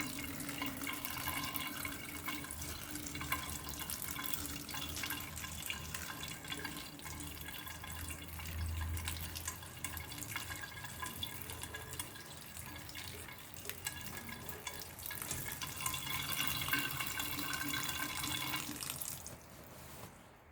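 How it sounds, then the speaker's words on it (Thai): Gentle running tap water poured over bean sprouts, a steady soft hiss and splash that continues evenly for the whole stretch, fairly faint and close, then cuts off near the end. "ก็มารดน้ำเช่นเคยนะครับ ดูที่ เปิดน้ำเบาๆพอครับเดี๋ยวต้นเขาจะหัก"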